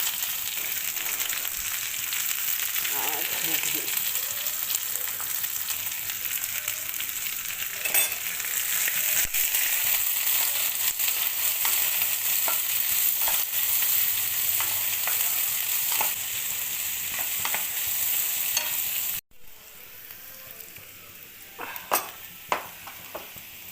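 Onion and green chili frying in a pan, a steady close sizzle with occasional stirring scrapes, cutting off sharply before quieter kitchen clatter and a few knocks.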